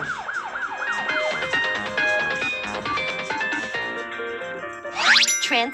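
Rapid wailing sweeps from a Hamburg police car siren open the clip, followed by bright chiming, jingly tones, then a sudden loud burst of high siren sweeps near the end.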